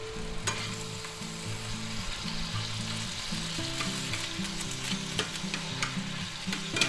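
Sausage with hot peppers and onions browns in a pan, a continuous crackling sizzle layered with a faint low background hum and occasional sharp pops.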